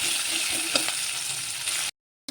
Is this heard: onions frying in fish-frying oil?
yes